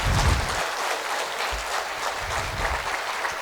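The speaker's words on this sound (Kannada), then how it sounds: "ಎಲ್ಲರೂ ಒಂದು ಸಲ ಅಡಿಗಾಜವ್ರು ಜೋರಾಗಿ ಚಪ್ಪಾಳೆ ತಟ್ಟಿ" A large crowd at a travel company's 32nd anniversary gathering claps loudly and continuously. The dense, sustained applause fills the whole stretch without pause.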